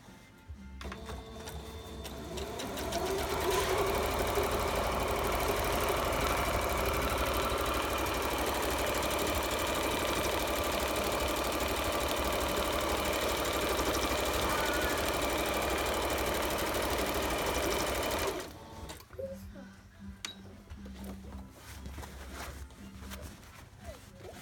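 Heavy-duty sewing machine with a purple heavy-duty needle stitching a cushion slipcover, running as a loud steady mechanical whir for about fifteen seconds before stopping abruptly, leaving quieter background noise.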